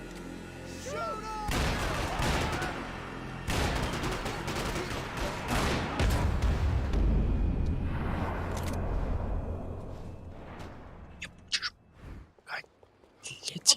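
Gunfire in the video game Max Payne, a dense burst of shots and impacts in the first half that thins to scattered cracks near the end, heard alone without talk.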